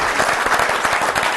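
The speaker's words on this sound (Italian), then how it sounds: "Allora un applauso" An audience at an Italian barebow archery club event breaks into dense, loud applause, with many hands clapping together in a continuous roar of claps.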